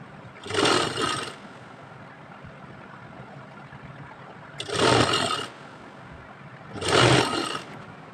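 A sewing machine stitches elastic onto a pant in three separate bursts of fast motor whirring, each lasting under a second, with quiet pauses between them.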